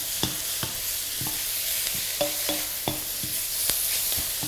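Steak with onions and mushrooms fries in a pan, a steady sizzle broken by repeated sharp scraping and stirring clicks spaced roughly every half second, close and moderately loud with no talking.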